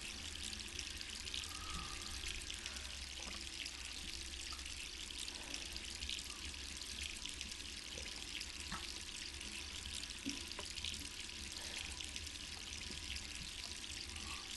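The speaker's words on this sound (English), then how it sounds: "we did leave the water running by accident" Water running steadily from a tap in the Resident Evil 3 Remake video game, a continuous hissing splash with faint drips, quiet and unbroken with no voices.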